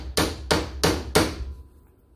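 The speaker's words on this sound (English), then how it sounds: "you're either going to have to tap it on your workbench" AN fuel hose end tapped against a workbench: four sharp, evenly spaced knocks, close and loud, then quiet.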